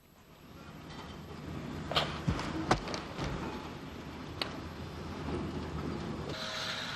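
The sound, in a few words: tank locomotive Drumbo hauling a goods train out of Stranraer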